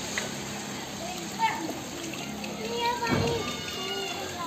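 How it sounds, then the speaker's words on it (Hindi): Children splash and play in rainwater outdoors while water is scooped out, a steady wet wash with occasional splashes and sloshes close by, and kids' voices talking over it. "पानी निकाल रहा है"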